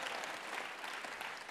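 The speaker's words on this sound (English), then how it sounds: "we should clap for that" An audience at a social and emotional learning conference applauds, with an even, continuous wash of clapping heard from some distance that holds steady throughout.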